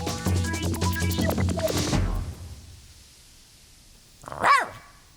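A cartoon ninja dog from the Naruto anime gives a single loud, rising yelp-like bark near the end, following a stretch of dramatic orchestral music that fades into quiet.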